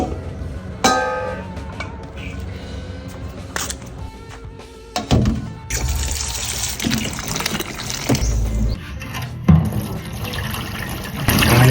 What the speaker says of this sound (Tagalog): Maghuhugas lang naman ng langka.